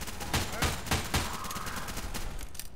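Rapid gunfire in an outdoor firefight, loud and dense bursts of several shots in quick succession under brief voices, with a sniper among the shooters.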